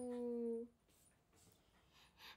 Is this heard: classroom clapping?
no